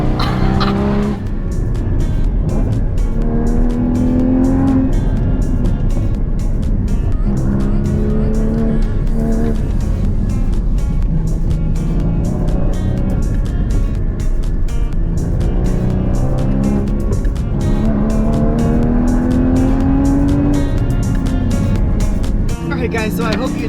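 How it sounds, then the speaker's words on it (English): Loud, continuous engine and stock exhaust roar from a 2016 Porsche Cayman GT4 on a canyon drive, rising in pitch through repeated accelerations and gear shifts, with a voice talking over it. "Let's see if we can get any more sound from the amazing exhaust of this car."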